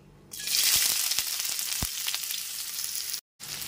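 Chopped medium-sized onion drops into hot oil with tempered spices in a pan and bursts into a loud, steady sizzle, with a few clinks and stirring knocks, then a brief silent break near the end.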